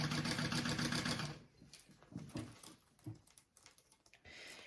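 Sewing machine basting a zipper panel to another panel for a crossbody bag, a fast steady mechanical whir for over a second, then stopping into quieter scattered handling clicks and fabric rustles.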